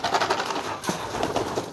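A mabung racing pigeon coos close by, soft low repeated throaty coos in a short run, with no talk.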